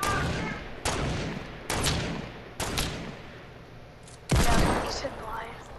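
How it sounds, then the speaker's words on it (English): Five heavy gunshots in a shooter game, each a loud boom with a long decaying tail, fired at a slow, roughly even pace, the last one loudest. "Stop shooting at people."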